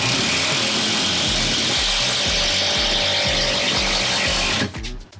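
A power drill drives a screw into wood in a container room under construction, its motor whirring loud and steady with rhythmic pulsing as the screw bites, then cutting off abruptly.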